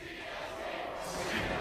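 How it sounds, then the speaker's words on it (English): A crowd of fans cheers at a 2015 NA LCS Spring League of Legends esports match between Counter Logic Gaming and Team Coast, a dense, sustained roar of voices that swells slightly near the end. "They really need to hear you guys cheering for them"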